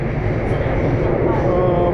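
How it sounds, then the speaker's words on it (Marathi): A Bangkok underground metro train on the blue line rumbles along close by, giving a loud, continuous roar of wheels and motors with no breaks. "ही चालली अंडरग्राऊंड ट्रेन"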